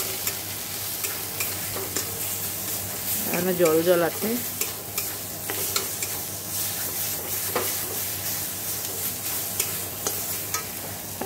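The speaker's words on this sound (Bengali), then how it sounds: "এখানে দেখো শাক ভাজাটা হচ্ছে" Leafy greens (saag) fry in a pan at home with a continuous close sizzle and the scrape of stirring, and a voice speaks briefly partway through.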